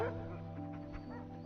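Dogs in a Frankenstein movie scene yipping and whimpering over a sustained musical score, short faint canine calls partly buried under the music.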